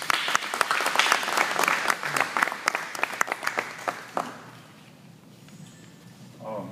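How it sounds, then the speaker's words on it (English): Steady crowd applause at a press conference, dense and close, that thins and dies away over the final couple of seconds. "Let's give them a round of applause before they even come up"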